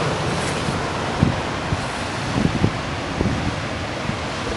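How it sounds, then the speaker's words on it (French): Wind and choppy surf at Anglet beach on a breezy morning, a steady broadband roar of gusts and agitated waves with occasional low thumps of wind buffeting the microphone. "Vous pouvez voir un plateau qui est clapoteux, les vagues qui sont agitées."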